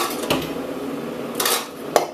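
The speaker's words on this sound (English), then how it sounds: "Grab a pan." A metal cooking pan clanks as it is grabbed in a kitchen, two or three short bright knocks over a quiet room hiss.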